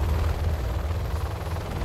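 Helix helicopter from the C&C Generals Zero Hour strategy game arrives with a steady, loud rotor chop and engine drone, a continuous low thumping throb holding even throughout with no talk over it.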